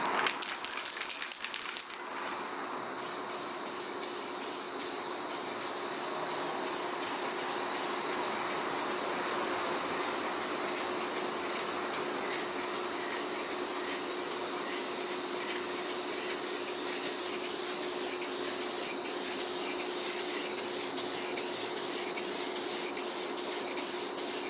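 A spray gun lays a full coat of paint on a car, giving a long, steady, close hiss that starts abruptly and runs almost without a break, with faint rhythmic ticking beneath it.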